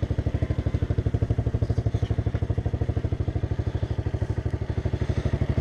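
A Romet Router RM 125 motorcycle engine idles close by in a steady, fast, even thumping rhythm with a clattery valve tick, running alone without any talk.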